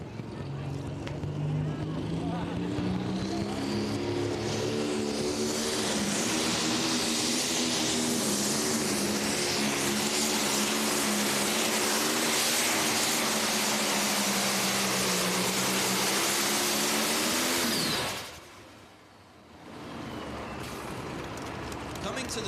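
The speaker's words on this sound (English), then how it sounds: "Jeremy and Jared pilot this tractor, the 4440 John Deere." John Deere 4440 pulling tractor at an NTPA truck and tractor pull roars under heavy load for about eighteen seconds, a loud steady engine drone with rising harmonics that cuts off abruptly, while an announcer talks over it.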